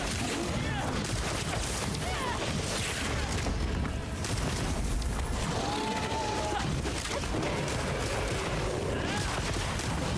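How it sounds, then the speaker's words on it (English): Dense, continuous gunfire and crashing blasts from shooting at a monster in Monster Hunter Wilds, loud and sustained throughout with talk over it. "I was shooting at you."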